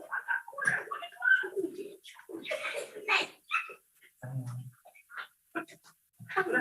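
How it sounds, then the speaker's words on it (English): A puppy whines and whimpers in repeated high, wavering cries and short yelps, coming in irregular bursts with brief pauses, fairly close and moderately loud. "Sounds like a puppy down there."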